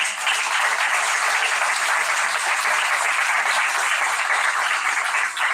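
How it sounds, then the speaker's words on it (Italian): A festival audience gives a lively round of applause, dense and uniform clapping from a sizeable crowd that runs steadily for over five seconds with no talk over it. "Un grande applauso."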